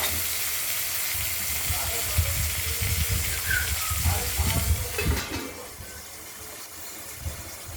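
Steady sizzling of tomato frying in a pan, with a constant frying hiss and occasional crackles and clinks, fairly close, fading a little toward the end.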